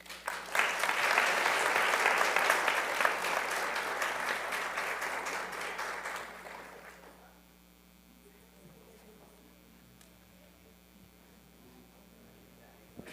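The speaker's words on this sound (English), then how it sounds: "One more round of applause for our Sadaka teens and for California Common Cause." Congregation at a Friday night Shabbat service in a temple giving a round of applause, a steady crowd clapping for about six seconds that fades out, leaving low mains hum and quiet room noise.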